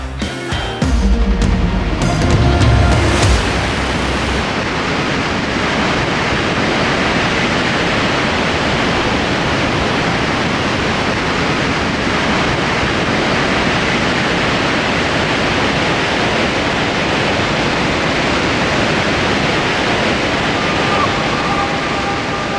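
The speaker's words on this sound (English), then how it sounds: "there are a couple of breathtaking waterfalls like the famous Lower Falls of the Yellowstone River" Rushing water of a large waterfall, the Lower Falls of the Yellowstone River, roars as a loud, steady broadband wash that fills the whole stretch after a few seconds of brief mixed noise at the start.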